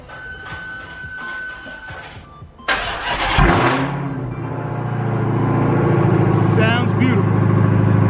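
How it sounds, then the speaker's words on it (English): Cold start of a Dodge Hellcat: the starter cranks briefly after quiet background noise, then the engine fires with a loud bark and rev before settling into a deep, rumbling, steadily building idle close by. "last cold start on the channel of this Hellcat"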